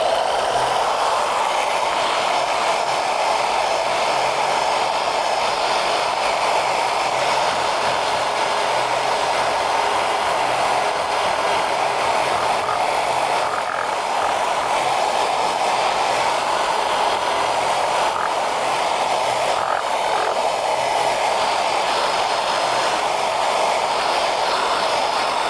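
A thick layer of paint being sanded off a Fender Stratocaster electric guitar body: a steady, continuous abrasive whir that holds at an even level the whole way through, with no talking.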